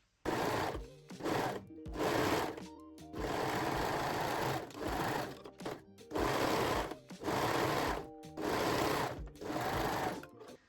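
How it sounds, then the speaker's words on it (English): A sewing machine runs in repeated bursts while stitching the side seams of panties, its motor whirring steadily for a second or two at a time and separated by short silent pauses, close and alone. "Okay, so now we can sew both side seams."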